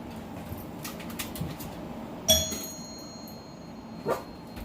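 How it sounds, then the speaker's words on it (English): A single bright electronic doorbell chime rings out once, fairly clear against a quiet room, followed a moment later by a short muffled thump. "when he hears that doorbell"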